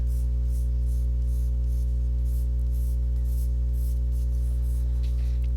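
A pencil sketches a head on paper in quick repeated strokes, a light rhythmic scratching over a strong constant electrical hum, with no talking.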